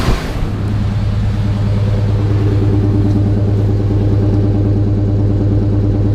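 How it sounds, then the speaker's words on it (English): Old engine from a 1989 Chevy K1500 long block running at a steady idle, a loud, close, continuous rumble with an even low throb and no speech. "it's an old engine, but as you can see, it runs."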